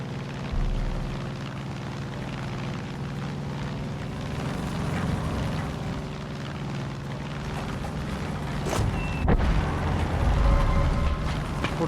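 An airplane flying in the video game Far Cry 5, heard as a continuous droning engine roar with slight swells and a few sharp bangs near the end.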